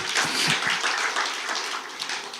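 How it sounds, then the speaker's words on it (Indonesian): A church congregation applauds together, a dense, even wash of clapping that holds steady for a couple of seconds and fades slightly at the end. "Berikan tepuk tangan kita untuk Tuhan kita."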